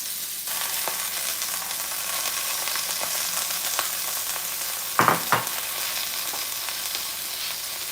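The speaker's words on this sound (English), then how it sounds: "Add some oil. Add in our veggies." Vegetables hit hot oil in a pan over lowered heat for a Korean BBQ beef and rice dish, setting off a steady close sizzle with brief louder scraping bursts of stirring partway through.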